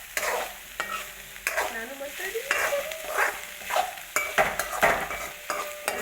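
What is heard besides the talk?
vegetables being stir-fried for veg fried rice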